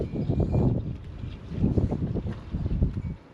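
Cold winter wind gusts through a mountain village on the first snowy day, buffeting the microphone in strong low rushing bursts that rise and fall in three or four waves, with no speech.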